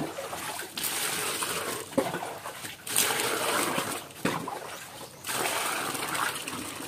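Water poured over cut cucumbers, a broad splashing and trickling stream that comes in several separate bursts with short pauses between them, fairly close and with no talking.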